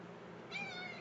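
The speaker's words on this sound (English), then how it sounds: "There's that white cat down there." A white cat gives a single short, faint meow partway through, set against a quiet background hum with no talking.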